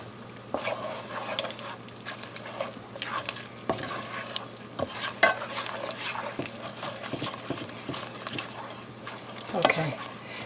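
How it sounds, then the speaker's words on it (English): Brown butter with sage leaves in a pan off the heat, stirred with scraping, clattering strokes over a soft sizzle, fairly close and moderately loud. "We're gonna shut off the heat and just stir us a minute more"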